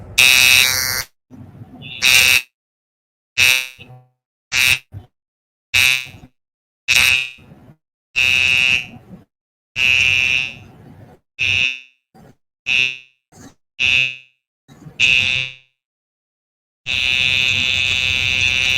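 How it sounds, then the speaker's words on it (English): Driver drowsiness detection alarm buzzer sounding in repeated harsh electronic bursts of uneven length separated by silences, ending in one long continuous blast, loud and close with no talking. "If the driver feels sleepy, the active warming alarm sounds."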